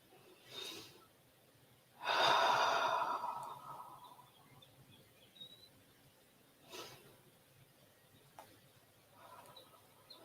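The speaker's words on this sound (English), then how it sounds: "take a few deep breaths through the nostrils" Slow, deep breaths drawn through the nostrils in a quiet room, one long soft inhale and exhale standing out among a few fainter, brief breaths spaced apart.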